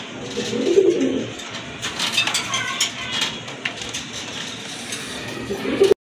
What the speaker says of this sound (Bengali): খুবই ছটফটা কবুতর, স্থির হয়ে দাঁড়াচ্ছে না